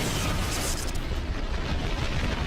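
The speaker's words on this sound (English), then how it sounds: "The explosion blows out one of the inner panels." A heavy aircraft fuel tank explosion, ignited by a short-circuit spark, erupts into a sustained, roaring rumble that fills the space without letting up.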